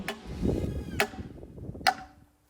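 Three sharp knocks strike wood at roughly one-second intervals, a hollow mallet tapping a metal post base onto a cedar post.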